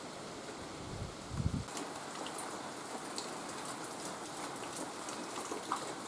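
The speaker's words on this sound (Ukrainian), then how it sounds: "Ось у нас вже до вечора який дощ розійшовся." Steady rain falls in a soft continuous patter, with a couple of low thumps early on.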